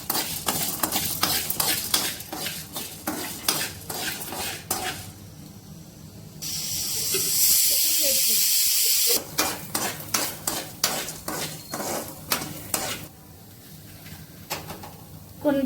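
Spices fry with dried red chillies in a pan, with a dense run of rhythmic stirring scrapes and clacks over a sizzle. The stirring pauses midway, leaving a brief steady hiss, then resumes.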